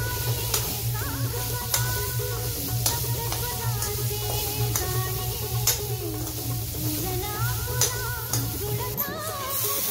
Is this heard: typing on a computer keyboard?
no